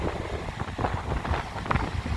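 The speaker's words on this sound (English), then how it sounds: "We got a north wind of about" A gusty north wind of about 20-25 mph buffets the microphone at a lakefront river walk on Lake Michigan, with roaring, uneven bursts of blustery noise and no voices.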